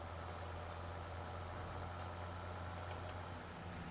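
A farm vehicle engine drones steadily as the tractor drives along in Landwirtschafts Simulator 17, a low constant hum with faint clicks overhead, no voices.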